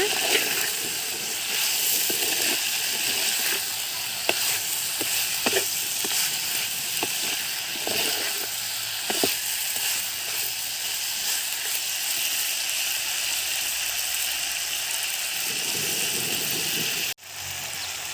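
Goat head gravy cooks in a pot over a primitive outdoor fire, giving a steady, loud sizzle and bubbling with occasional faint clicks of a utensil, which is cut off abruptly near the end.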